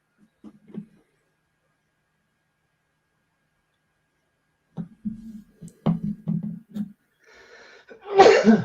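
Quiet room with a few soft noises, then a sudden sharp sneeze bursts out loudly at the end after a brief murmur of voices.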